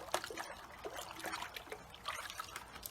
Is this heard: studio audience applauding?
no